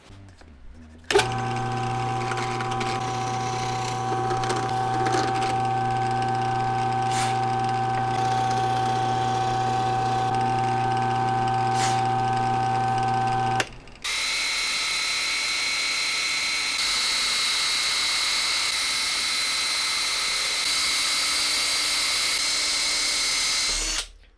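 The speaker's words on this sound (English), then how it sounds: "Then I'll take my step drill bit and we'll go in from the back and widen out this hole" Step drill bit widening a tuner hole from the back of a guitar headstock, a loud steady motor whine with strong tonal hum, then a sharp shift to a higher, hissier cutting drone as the bit bites, long and sustained.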